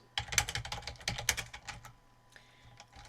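Quick, close bursts of keystrokes on a computer keyboard, clustered in the first second and a half and then thinning to a few softer taps, with no talking.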